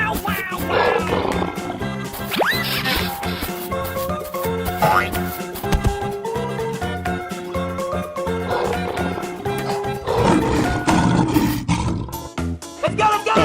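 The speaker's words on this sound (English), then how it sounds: "Lion." A lion roars in a video game amid a dense, loud mix of game music, sound effects and other animal noises, with the roar blended into constant busy clutter throughout.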